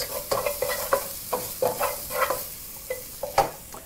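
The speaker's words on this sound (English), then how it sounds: "mix your garlic in a circular motion" Garlic frying in a pan, stirred in circular motions, for a Kenyan matoke in groundnut sauce: close, repeated scraping strokes of a spoon in an irregular rhythm over a light sizzle, with no voices.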